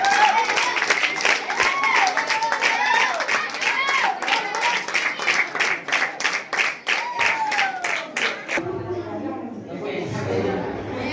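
Students at a school annual day clap in a steady rhythmic beat of sharp, close claps while a voice carries on over them, then the clapping gives way to talk and crowd murmur.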